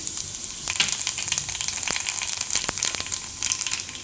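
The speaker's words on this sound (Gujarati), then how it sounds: "એમાં આપણે પહેલાં મેથી નાખીશું અને કલોંચી" Fenugreek and nigella seeds crackle and sizzle in hot oil on a lowered flame, a steady bright frying hiss with sharp pops scattered throughout, close and fairly loud.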